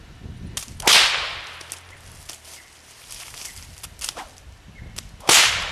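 Two sharp, loud whip cracks ring out about four seconds apart, with lighter snaps and swishes between them outdoors.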